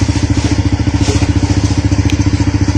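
A motorcycle engine with a newly fitted spark plug not suited to it runs steadily, a loud, close, rhythmic thumping idle with a slightly uneven pulse and no talk over it.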